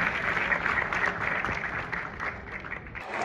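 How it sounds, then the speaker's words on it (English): Conference audience applauding, a dense steady wash of clapping from a hall full of people, sustained throughout without talk. "Please a round of applause."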